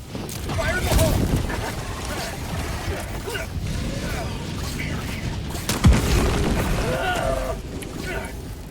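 Explosions thunder through a Helldivers 2 battle, with a heavy boom near the start and a sharper blast around the middle, layered over rumbling combat noise while players talk.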